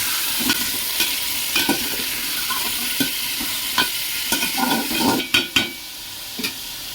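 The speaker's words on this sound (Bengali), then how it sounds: "ভালো করে এগুলো একটু ভেজে নেব।" Raw jackfruit pieces, coated in salt and turmeric, frying in a pan with a steady close sizzle and repeated clatters and scrapes of stirring, with two louder knocks near the end; no one speaks.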